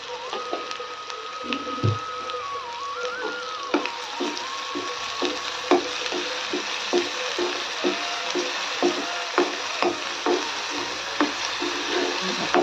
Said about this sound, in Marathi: एकदा छान परतून घेऊया